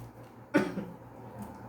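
A woman gives a single short cough or throat-clear, close and brief, in an otherwise quiet room.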